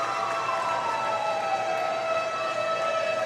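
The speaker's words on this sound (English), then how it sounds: "The siren is going off once again in the corner." A goal siren wails continuously in the corner of a hockey arena at a lacrosse-style Presidents Cup game at Ladner Leisure Centre. It is a sustained, loud horn-like tone with a slowly falling pitch over the crowd's roar.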